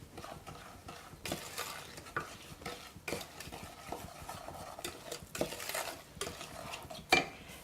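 A spoon stirs sugar into a melted mixture in a bowl for s'mores brownies, giving repeated scraping and clinking strokes against the bowl in irregular bursts, close and fairly quiet, with no talking.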